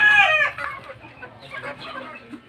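Hens cluck and a rooster crows loudly up close on a gamefowl farm keeping White Kelso birds, followed by softer scattered clucking and fowl calls in the background.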